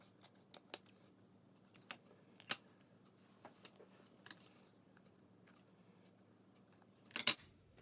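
Scissors snip through paper while a junk journal specimen tag is cut out: sparse, sharp little clicks at irregular intervals, with a louder double snip near the end, close and otherwise quiet.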